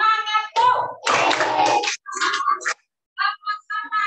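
A class of children in an open lesson doing the tepuk semangat clapping chant: bursts of chanted children's voices with rhythmic hand claps, pausing briefly before the chant resumes, close and lively.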